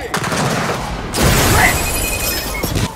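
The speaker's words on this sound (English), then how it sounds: "Rolling frag." A frag grenade rolls and explodes during a Gears of War 4 Horde match: a loud broadband blast hits about a third of the way in and rumbles briefly, over ongoing gunfire and battle noise.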